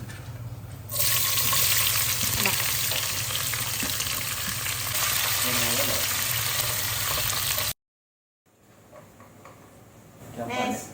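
Onions frying with spices for chicken biryani give off a loud, steady sizzle up close with occasional stirring clatter. The sizzle cuts out briefly and then returns more quietly, and a person talks over the cooking.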